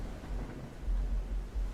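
Stormy weather in the train game RailRoads Online, with a steady low rumble and wind-like roar that swells in a few deep surges, no voices.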